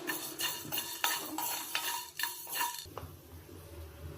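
Coriander seeds and black pepper are stirred in a pan with a spoon, giving a run of rhythmic scraping clinks and rattles that stop abruptly, leaving a soft low hum with no talking.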